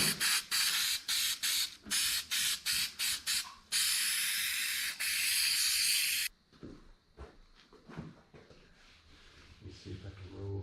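An aerosol can sprays adhesive onto a Dodge Avenger headliner during a repair, first in a rapid series of short hissing bursts, then in one long steady blast, followed by quieter handling noises close up.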